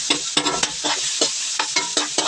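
Pork sautés in a hot pan for ginisang togue, loud close sizzling punctuated by about eight rhythmic scrapes and tosses of a spatula stirring the meat, with no talking.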